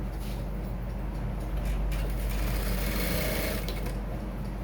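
A sewing machine stitching the front pocket of a men's trousers runs continuously at a steady fast hum and whir, close and fairly loud, with no talking.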